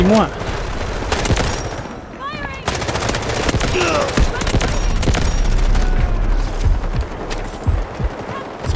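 Rapid machine-gun bursts and scattered single shots in the shooter game Delta Force, loud and close, firing in dense volleys for the whole stretch while a player talks excitedly over the gunfire.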